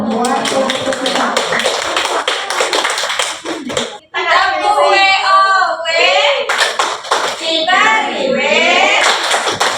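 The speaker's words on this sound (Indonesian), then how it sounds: "Tepuk tangan dulu." Dense clapping from a group, steady and close, with a brief pause partway through before the clapping resumes, mixed with voices.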